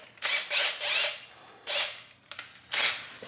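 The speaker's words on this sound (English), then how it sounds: "I just took a little bit bigger drill bit and I'm going to bevel the edge" A power drill with a slightly larger bit bevels the edge of a hole in several short bursts with brief pauses between, close by, with faint clicks in the gaps.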